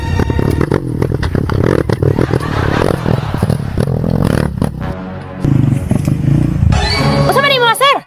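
A motorcycle rumbles and clatters along a rough shortcut, engine revving under shouting voices, with a high rising whine near the end.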